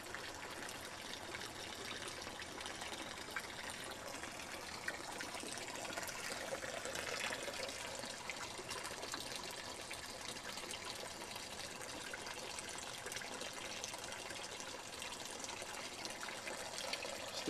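Garden fountains splash into a murky fish pond, a soft, steady trickle and burble of falling water, faint and continuous with no voices over it.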